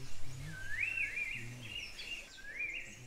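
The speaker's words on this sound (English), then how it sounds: "the chirping of birds" Birds chirp faintly in a rainforest, a few thin rising and falling calls spread over a low rumble of background noise.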